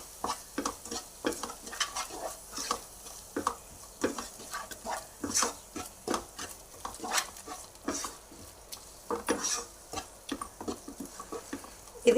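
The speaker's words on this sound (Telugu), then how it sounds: "ఆలోపు సోయా వేయించుకుందాం." Soaked, squeezed soya granules stirred and fried in a little oil in a pan, giving a steady sizzle with frequent scraping, clicking stirs close up and no talking.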